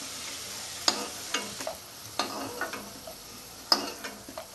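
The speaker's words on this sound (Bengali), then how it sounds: "লাল লাল করে আলুটা ভাজবো আমি।" Potatoes fry in oil in a wok for a Bengali-style jeera chicken curry. A soft sizzle sits under a few sharp scrapes and clinks of stirring, spaced a second or so apart, with no talk.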